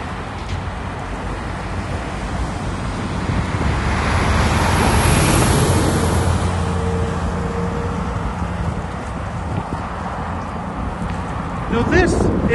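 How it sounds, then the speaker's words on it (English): Traffic on a busy road: a passing vehicle's rumble swells to a loud peak midway and fades again, heard steadily over a wash of road noise while a person talks nearby. "But this is a busy road."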